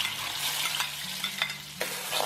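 Red chili peppers stir-fried in a hot wok, a steady sizzle of oil with several sharp scraping clicks of the spatula stirring them, close and fairly loud, no voices.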